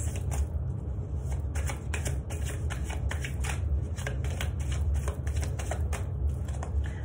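Tarot cards are shuffled by hand in a rapid, crisp riffling patter of repeated snaps and flutters, close and continuous throughout.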